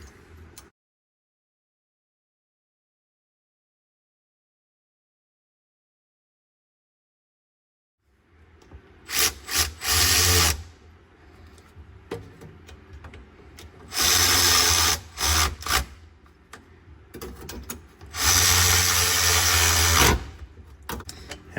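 A Makita power tool, used while replacing vehicle bushes, spins up after a long silence in several loud bursts separated by quieter idling, close by and with no talking.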